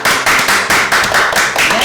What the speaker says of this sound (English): Round of applause for Chef.